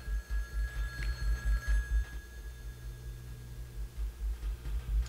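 A banana-shaped telephone in the video game Jazzpunk rings steadily, its low buzzing ring pulsing in quick repeated bursts over faint background noise.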